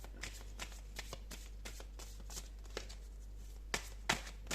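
Tarot cards being shuffled and drawn, with a run of soft papery flicks and riffles and sharper snaps near the end, close and fairly quiet, with no talk.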